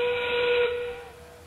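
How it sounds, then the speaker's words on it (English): A steam-style train whistle sounds at a robotics competition, one sustained, fairly loud tonal blast that fades after about a second, with no talking. "They got the train going over there."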